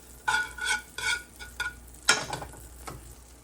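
Eggs frying in a buttered pan are stirred in short scraping bursts, with a soft sizzle underneath and a sharper clatter near the end, close and fairly quiet.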